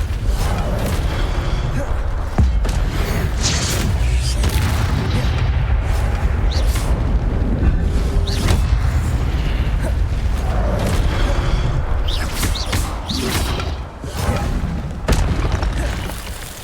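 Incendio fire spell blasts in the PS5 game Hogwarts Legacy, dense booming bursts and crackling impacts layered over a loud, continuous combat din with musical score, repeated hits throughout.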